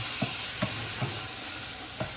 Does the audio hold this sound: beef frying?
yes